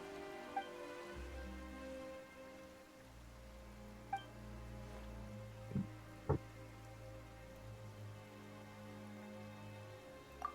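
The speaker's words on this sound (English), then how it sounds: "Why is it raining" Soft steady rain falls in Genshin Impact, a low continuous patter with a few scattered louder drips, under a game music bed with no talking.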